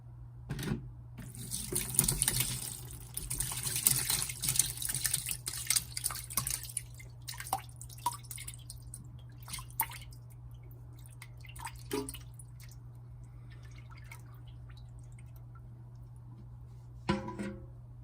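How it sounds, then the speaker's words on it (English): Goat cheese curds for chevre poured from a big bowl into cheesecloth, whey splashing and dripping like running water for several seconds, then thinning to scattered drips and a few soft bumps over a steady low hum. "So I'm going to pour off the curds into the cheesecloth."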